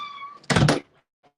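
A house cat gives a single short meow, close and fairly loud, preceded by a faint tonal hum and followed by near silence.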